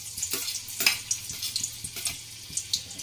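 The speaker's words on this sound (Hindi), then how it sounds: "तेल गर्म होने के बाद डालेंगे हम लहसुन" Garlic and chopped chilli frying in hot oil for karmatta bhaji, a close crackling sizzle with repeated sharp pops and spatters over a soft steady hiss.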